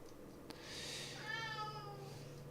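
A house cat meows once, a drawn-out, rising-then-falling call, faint and alone over a low background hum.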